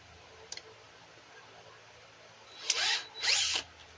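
A drill opens up a broken bolt hole in a Dodge Charger backing plate with a 1/8 bit, two short whining bursts near the end after a faint click, loud and close.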